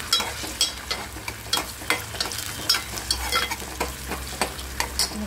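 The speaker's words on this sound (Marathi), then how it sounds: "आपला कांदा भाजत आहे. या कांद्यामध्ये आपले जे कढीपत्त्याची पानं आहेत ते आपण ॲड करूया." Onion and curry leaves fry in a pan for a Maharashtrian chicken masala, a steady bright sizzle broken by repeated close scraping stirs of a spoon in an irregular rhythm, with no talking.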